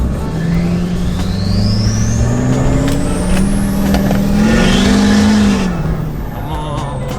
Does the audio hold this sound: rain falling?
no